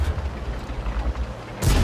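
A heavy tank cannon, the FV4202, fires in World of Tanks, a deep rumbling boom that rolls on and then swells again at the end, loud and with no voice over it.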